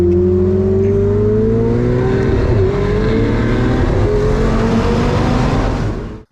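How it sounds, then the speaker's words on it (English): A Ferrari 488 Spider and a C8 Corvette Z51 convertible accelerating hard together, a loud, close engine roar whose pitch climbs steadily through the gears before cutting off abruptly at the end. "Notice that the Ferrari is just getting ahead of the Z51 Corvette"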